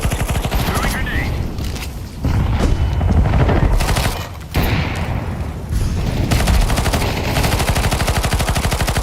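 Gunfire and explosions from a shooter video game rattle almost continuously at close range, rapid bursts broken by a couple of short lulls and a heavy grenade blast within the dense firefight.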